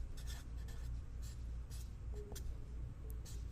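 Steady marker-on-board writing during a physical chemistry lecture, in continuous scratchy strokes that run through the whole stretch, close and fairly even in loudness, with no talk.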